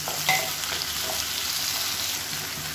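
Steady crackling sizzle of tomatoes and onions sautéing in oil, continuous and close, with a faint clink or scrape of stirring partway through.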